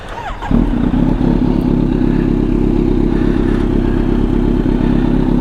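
A big motorcycle engine, one of a group of large bikes including a Kawasaki Z900, KTM 790 Duke and Bajaj Dominar 400 parked at a McDonald's, fires up and settles into a loud, steady warm-up idle close by.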